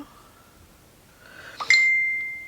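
A single bright notification ding from a phone rings out clearly and lingers, sounding in a quiet room where someone is painting with watercolors.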